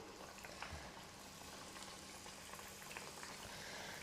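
A prepared breakfast snack dropped into hot oil in a pan, giving a steady, soft bubbling sizzle throughout with a few small crackles, fairly quiet and without any talking.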